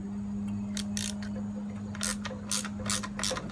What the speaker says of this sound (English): you got to get a 10mm socket. You can take them screws loose